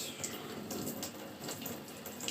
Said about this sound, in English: let's just get this one all finished rinsing